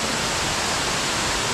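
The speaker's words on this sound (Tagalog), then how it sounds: "Dalawang falls." Daranak Falls waterfall gives off a steady, loud, broadband roar of rushing, crashing water that fills the whole short stretch with no pauses.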